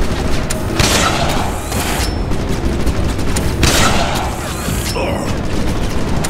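Bursts of loud gunfire in the video game Wolfenstein (2009) crack repeatedly over a dense, noisy background, with two heavier blasts standing out among rapid shots.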